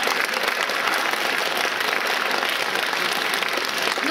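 Concert audience applauds the performers in a steady, dense burst of clapping that holds at even loudness throughout, with no voices standing out.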